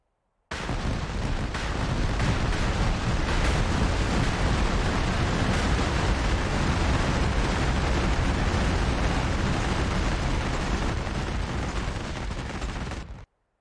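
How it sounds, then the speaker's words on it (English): Cluster bombs detonate in the DCS World combat flight simulator, a dense, loud, continuous roar of overlapping blasts and crackling rumble lasting over twelve seconds before cutting off abruptly. "Cluster bombs are deployed."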